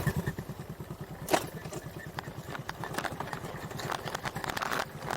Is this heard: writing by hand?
no